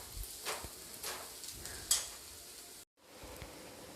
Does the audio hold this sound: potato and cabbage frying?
yes